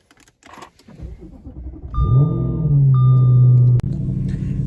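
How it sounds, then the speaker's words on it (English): An Audi RS5 V8 engine with a track exhaust starts and settles into a steady, deep idle with a high electronic tone above it, then cuts off abruptly. "This V8 that Audi makes sounds amazing."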